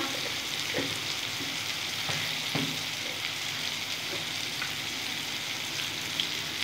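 Cumin powder goes into a frying pan of sizzling food, a soft continuous hiss with a few faint taps and stirring sounds and no talking.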